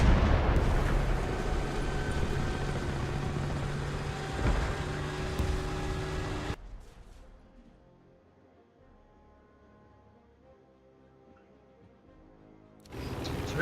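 Tank cannon fire in War Thunder: loud booming blasts with heavy rumble for several seconds, then a sudden cut to near silence before sound returns at the very end.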